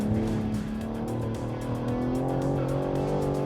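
A BMW M3 Competition Touring's engine roars continuously while its Michelin tires squeal under hard braking, loud and close throughout.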